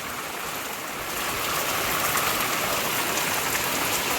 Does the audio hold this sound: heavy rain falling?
yes